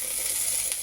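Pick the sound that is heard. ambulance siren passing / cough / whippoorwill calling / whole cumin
whole cumin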